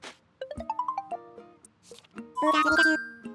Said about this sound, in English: Hold the phone, someone's calling.